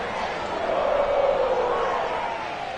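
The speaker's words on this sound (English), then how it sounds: "The enthusiasm of this Cincinnati crowd in full effect a moment ago as their Bengals took the field to the delight of this sold-out crowd." Stadium crowd noise from a sold-out Cincinnati stadium in Madden 22 as the Bengals take the field, a steady broad roar of cheering sustained throughout at moderate loudness.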